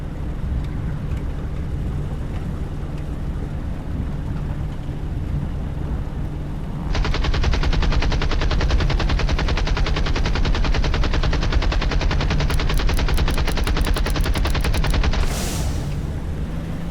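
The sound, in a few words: aircraft machine guns firing in Birds of Steel video game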